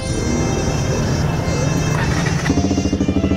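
A motorcycle engine runs close by with a continuous buzzing hum that turns into a pulsing, throbbing beat near the end.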